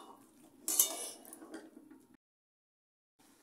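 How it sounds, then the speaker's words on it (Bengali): A metal spoon stirs chilli potatoes in a pan over a high gas flame, giving close scraping clatter for about two seconds, then stopping before faint stirring resumes. "এবার গ্যাসের জোরটা জোরে দিয়েই নেড়ে চেড়ে এটা রান্না করে নিতে হবে।"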